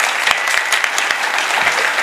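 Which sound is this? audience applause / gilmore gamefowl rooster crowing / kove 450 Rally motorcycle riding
audience applause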